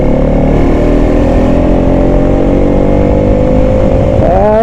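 A Bajaj Pulsar NS200 motorcycle engine revs loud and close on a morning ride through narrow city streets in Guwahati, a steady droning roar holding high rpm with a slight pitch shift at the end.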